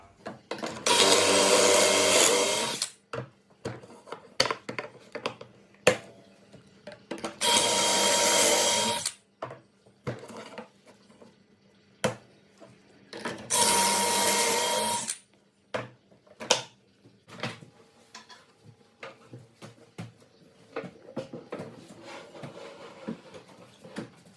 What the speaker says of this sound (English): Just using the Craig pocket jig to put some pocket holes into the side of the unit